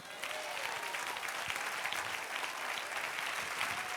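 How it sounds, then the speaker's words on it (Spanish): A church congregation applauds during a sermon, a dense, even wash of clapping that sounds somewhat distant and fairly quiet. "Dale un aplauso al Señor"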